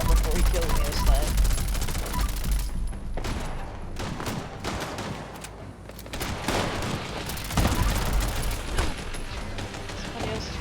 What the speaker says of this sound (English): Let's see if I can shoot him some before he kills me this time.